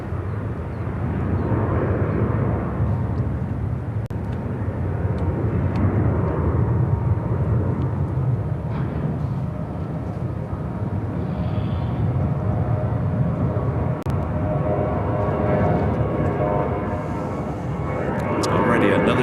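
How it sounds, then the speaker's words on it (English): A United Airlines Boeing 737 MAX 8 taking off from Chicago O'Hare, a sustained loud jet engine roar with broadband rumble holding steady throughout, heard from the ground at a distance. "This is United Airlines 1491 taking off to Tampa on the MAX 8."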